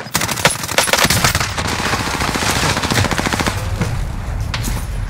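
Rapid machine gun fire from a video game rattles in long, steady bursts, loud and close, with dense repeated cracks running through the whole stretch and no talking over it.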